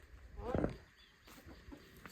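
A rooster gives a short, loud crow amid village farmyard noise in Ilam, Nepal, with a person talking quietly nearby.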